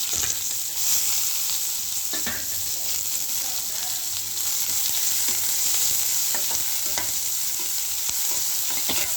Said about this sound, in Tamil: இப்போ இந்த வெங்காயமும் கருவேப்பிலையும் நம்ம சேர்த்துக்கிறோம்